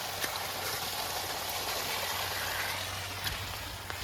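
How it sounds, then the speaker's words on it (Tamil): Rainwater rushing heavily into a farm pond, a continuous broadband wash of flowing water at a steady, moderate level with no voices. "எங்களுடைய பண்ணக்கோட்டையில் வந்து தண்ணி வந்து அதிகமாக ஓடிட்டுருக்கு"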